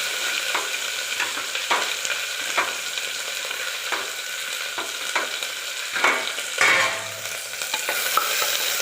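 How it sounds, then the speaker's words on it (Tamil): Green chillies and onions frying in a pan, a steady close sizzle under repeated scraping stirs at a regular pace, with no talk. "மிளகா வெங்காயம் எல்லாத்தையும் போட்டு வதக்கலாம்"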